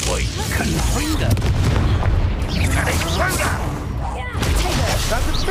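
A fiery Confringo spell blast from Hogwarts Legacy on Nintendo Switch fills the scene with dense, continuous booming and crackling bursts, loud and close, layered over chaotic battle noise.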